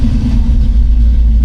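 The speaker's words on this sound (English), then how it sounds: "Just get the fuel pump cranking a couple times." The engine of a Jeep XJ turns over to prime the fuel pump, a loud, close, continuous low rumble lasting about a second and a half.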